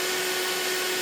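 Hoover Portapower S1126 vacuum cleaner running, a steady, loud motor hum with a fixed whine and airy rush, nearby and unbroken.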